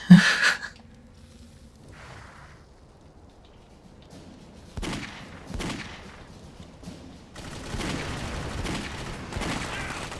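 Enemy gunfire in the shooter game Clive Barker's Jericho: a loud burst at the start, then scattered sharp shots and a sustained rattling volley building toward the end, dense and continuous with no pauses.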